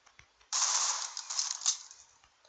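A short burst of gunfire in the mobile shooter Critical Ops opens sharply and then fades out over about a second and a half, loud against quiet game ambience.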